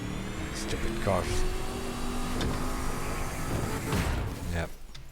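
Car traffic in the racing video game The Crew 2, a steady engine and road drone running throughout with a few passing swells, heard under someone talking.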